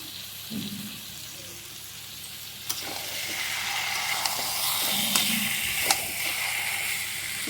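Mutton pieces fry with spices in a pan, a continuous hiss and sizzle broken by occasional scraping and clinking as the meat is stirred, close and fairly loud.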